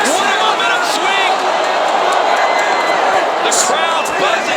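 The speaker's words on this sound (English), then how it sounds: "The crowd's buzzing now" A boxing arena crowd buzzes loudly and continuously after a knockdown, a dense roar of voices with scattered whoops and cheers rising through it.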